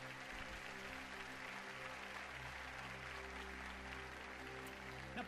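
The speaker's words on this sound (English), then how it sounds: "An applause to the King of Kings and Lord of Lords." A church congregation applauding, a steady, dense wash of many hands clapping together, faint and distant, with a low hum of music or crowd underneath and no break across the few seconds.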